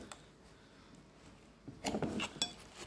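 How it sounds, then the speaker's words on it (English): A small metal spoon scrapes and clinks against a container of Nutella ice cream in a few quick, faint strokes near the end, after a quiet stretch. "Let me see if I can get a bit of a spoonful."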